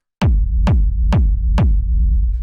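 Four loud techno kick drum hits pass through a limiter, evenly spaced with clicky attacks and dense, sustained low-end tails, with no other sound.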